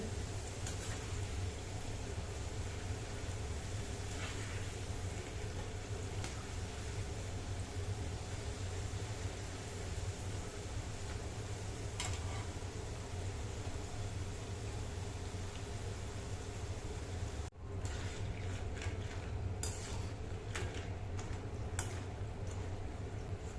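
Food fries in hot oil in a pan until crisp and brown, a steady dense sizzle with small pops and crackles running unbroken close by, no voices over it.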